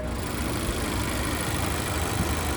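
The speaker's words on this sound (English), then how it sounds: "there's that 2-liter naturally aspirated 4-cylinder" A 2025 Nissan Kicks's 2-liter naturally aspirated four-cylinder engine idles steadily close by, a continuous low rumble with a faint mechanical hum and no voices.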